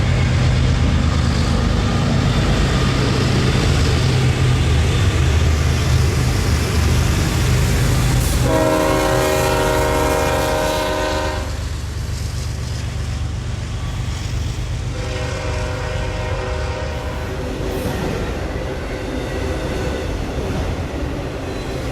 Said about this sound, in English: caught this northbound auto-rack train